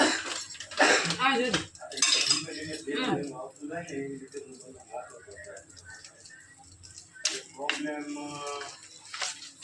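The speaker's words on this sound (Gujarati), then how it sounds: "લાવ તમે ચમચી હલાઈ નાખો" Spoon stirring in a pan while frying spicy Chinese parathas, giving scattered metallic scrapes and clinks close by under continuous conversation in a home kitchen.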